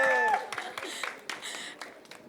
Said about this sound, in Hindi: पहले हम ताली बजा देते तुम्हारे लिए।